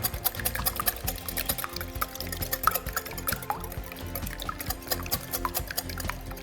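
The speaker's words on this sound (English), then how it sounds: "I've also got 4 egg whites. I'm going to throw them in too. Let's give them a good whisk." Four egg whites whisked by hand in a bowl with dry ingredients nearby, a steady run of quick wet clicking and sloshing strokes, close and moderately loud, with no talking.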